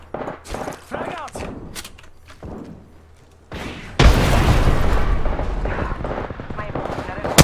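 In the Apex Legends video game, a frag grenade explosion and gunfire erupt suddenly into a loud, sustained burst of blasts and shots. Before the blast, a voice calls out briefly over quieter game sounds.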